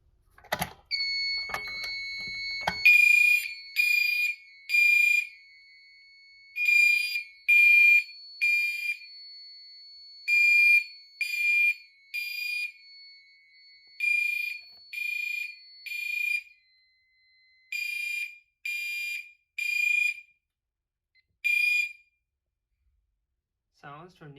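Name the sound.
fire alarm signal sounding from Fire-Lite panel's AN80 device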